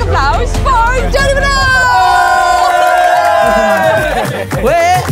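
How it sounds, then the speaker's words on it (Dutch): A crowd at a lively Dutch radio show event cheers and whoops, loud and close, with shouting and a prominent voice calling out over the noise throughout. "Dames en heren, mag ik een hartelijk applaus voor Johnny"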